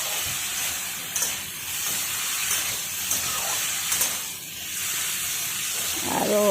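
Chopped bottle gourd stalks fry in a pan with a constant close hiss, punctuated by faint utensil clicks and a light rattle toward the end.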